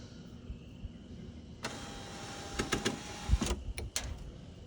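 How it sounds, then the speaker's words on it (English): An electric power window motor runs as a car window is driven down, a steady mid-pitched whir from about 1.6 seconds to near 3.5 seconds, close and moderate in volume, with a few clicks and knocks around it and no talking. "So the motor's running now."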